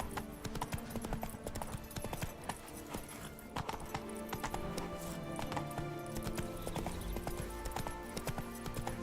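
Geralt's horse Roach gallops in The Witcher 3, rapid hoofbeats pounding steadily and close amid a dense, busy game mix of music and effects.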